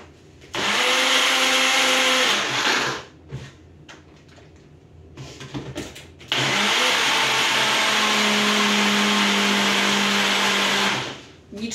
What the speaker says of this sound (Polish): I teraz to będziemy blendować.